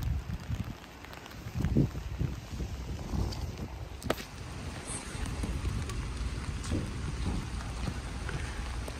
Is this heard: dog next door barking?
no